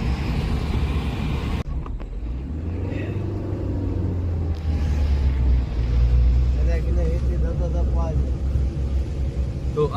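A shared taxi driving on the road toward Matheran, a low steady engine rumble and road noise from inside the car, with people talking over it and a brief door or handling thump early on.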